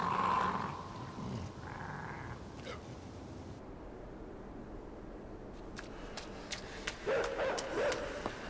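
A dog in the video game Inside gives low, rumbling growls that swell and fade over several seconds amid dark ambient noise, with a few sharp clicks and a brief higher yelp near the end.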